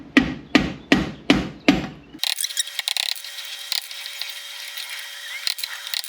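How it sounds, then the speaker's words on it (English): Five loud metallic clanks in a steady rhythm as a pry bar is hammered against a brake drum during differential seal work, followed by lighter scraping and clicking. "I'm going to take this pry bar and basically hammer this drum outwards"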